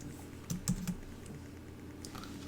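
Several quick keyboard clicks from labelling on a computer keyboard beside a Stream Deck XL colour panel, a short burst of four or five close taps followed by quiet room tone.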